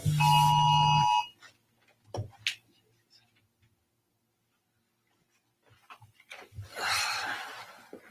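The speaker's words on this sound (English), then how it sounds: "silenced my phone, so I guess the alert came up" A mobile phone's national emergency alert rings at the start with a loud, steady electronic tone that cuts off after about a second, followed by quiet handling noises and then voices talking.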